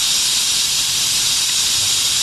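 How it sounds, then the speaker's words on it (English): Compressed air rushes through an air-powered motorbike engine in a loud, continuous, bright hiss that holds steady and close throughout. "There's a distinct sound of rushing air, but something seriously wrong."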